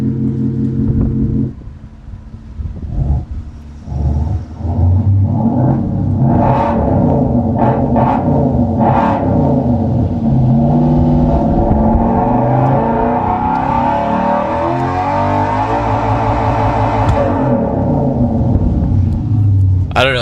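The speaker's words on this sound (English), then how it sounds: "Sounds like a Le Mans V8 or something like that" A V8 race car engine of Le Mans style revs hard and loud up to the rev limiter, holding a harsh, steady roar with stuttering cut-outs at the limiter, heard close over some background speech.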